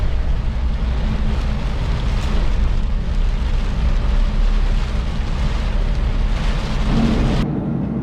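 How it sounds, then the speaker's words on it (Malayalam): Heavy rain pouring down, heard as a loud, dense, unbroken roar with a deep rumbling low end that holds steady throughout before cutting off abruptly near the end. "കിടിലം മഴ ഒന്നും പറയാനില്ല കിടിലം കിടിലം മഴ"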